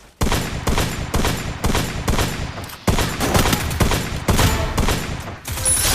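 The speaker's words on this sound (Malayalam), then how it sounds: "ഇവിടെ വെടിവെപ്പ് നടക്കുന്നുണ്ട്" Gunfire in the mobile battle game Free Fire: rapid, loud bursts of automatic shots fired again and again in quick succession, close and dominating the whole stretch with only brief gaps between volleys.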